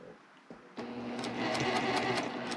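A sewing machine stitching a Y seam on a quilt border starts up after a brief quiet moment and hums along steadily with a rapid mechanical needle chatter, close and continuous, no talking over it.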